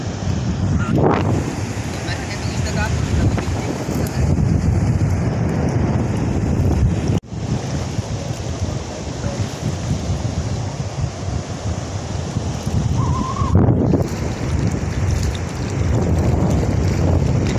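Strong wind roars steadily across the microphone on a shore in Negros, with a low rumble of surf beneath and brief gusts throughout.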